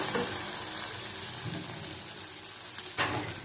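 A steady, dense sizzle rises from fried spice masala for a yogurt bhetki fish curry as water goes into the hot pan, with a sharper hiss near the end and no voices.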